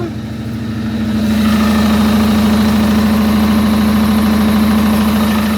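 A tractor engine idles steadily at close range, a low, even rumble with a persistent hum that builds slightly in the first second and then holds constant, with no voices over it.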